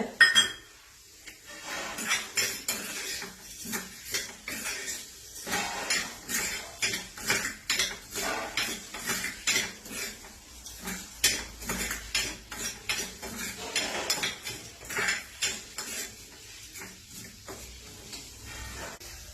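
Urad dal and chana dal fry in a pan with a steady sizzle, while a metal spoon repeatedly stirs and clinks against the pan in an irregular rhythm, close and moderately loud with no talking.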